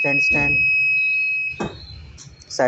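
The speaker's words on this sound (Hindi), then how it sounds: "स्टैंड बज़र यहाँ पर आप देख सकते हैं" A steady high electronic beep from the side stand warning buzzer of a Bajaj Kristal scooter after DIY electric conversion, sounding continuously for about 1.5 seconds under someone talking, then intermittent chirps as speech continues.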